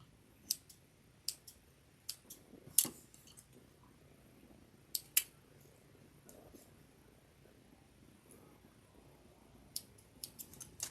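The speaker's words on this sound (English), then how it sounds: "Let me cut all these threads" Small sharp snips from scissors trimming loose sewing threads on a handmade snowman wristlet strap, a dozen or so quiet clicks scattered irregularly over a soft room hush, close and faint, with no talking.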